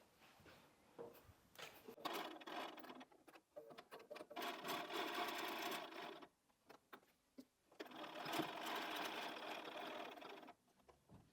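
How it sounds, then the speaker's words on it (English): A sewing machine stitching pieces of a LeMoyne Star quilt block, running in two long steady bursts of whirring with short pauses and small clicks between, close and fairly quiet. "So that's now ready to sew."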